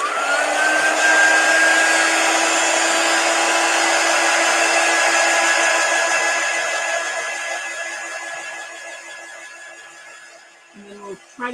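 A hair dryer or heat tool blows steadily and loudly, drying ink on a sleeve cozy, with a constant whine that fades toward the end before a few knocks.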